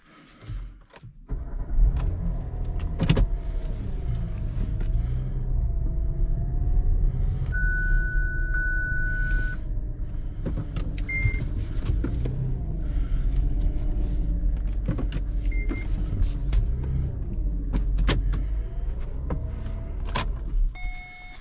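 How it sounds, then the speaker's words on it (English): Kia Sorento V6 driven into a shop, a steady low engine rumble close by, with a few chimes, clicks and jangles over it as the vehicle moves and settles. "Well, let me drive it in."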